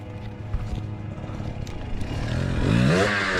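A dirt bike engine rumbles and clatters as it rides down steep granite rocks outdoors, loud and close, with the revving climbing toward the end over scraping and rattling.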